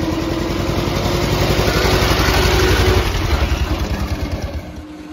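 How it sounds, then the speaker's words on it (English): A 1907 Darracq AX vintage car runs loud and close, its engine chugging in a rapid pulsing beat with a whining transmission tone that fades as the throttle eases off. "I'm taking my foot off the throttle and you can hear the transmission winding on a bit."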